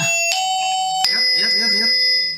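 An online door alarm chimes when a door opens, ringing sustained electronic bell tones that overlap a person speaking nearby, loud and close.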